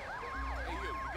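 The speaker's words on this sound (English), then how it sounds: "I didn't know an ambulance already spawned." An ambulance siren in the police video game LSPDFR whoops in fast, rising and falling sweeps, repeating rhythmically over an engine rumble, brief and moderately loud without talk.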